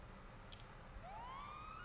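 A police car siren in GTA 5 starts up partway through, a rising wail climbing over a steady low engine and road rumble.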